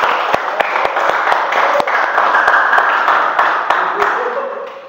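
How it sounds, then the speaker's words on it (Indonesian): Classroom of children clapping for a student after her batik presentation, lively and close, with distinct sharp claps standing out over steady applause and some voices mixed in. "tepuk tangan untuk Faruna"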